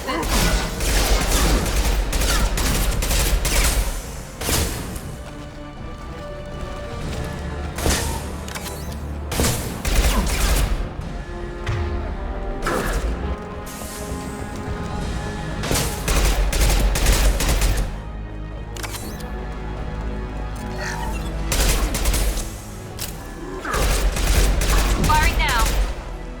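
Heavy gunfire in the video game Mass Effect 2, dense bursts of rapid automatic shots and booming blasts in repeated volleys with short gaps, loud and close, with voices talking between the bursts.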